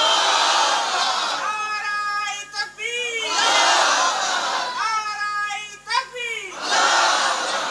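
A large crowd at a religious sermon gathering at Basirhat Darbar Sharif shouts a takbir twice in loud unison. Each round is a sustained chant with a rising and falling call in the middle.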